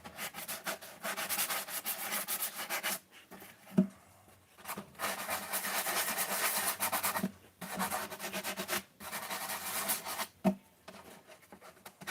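Sandpaper scrapes back and forth over metal in long, rough strokes, taking burrs off after hammering, with brief pauses between passes, close and fairly loud.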